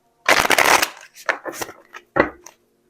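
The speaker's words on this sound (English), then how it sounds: "Let's give this one more good shuffle." A deck of tarot cards is shuffled up close, with one long dense riffle followed by two shorter bursts and brief pauses between them.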